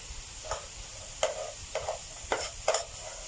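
Brown rice is tossed in a hot pan, with a soft continuous sizzle under several quick, scraping stirs that come at irregular intervals, close but quiet.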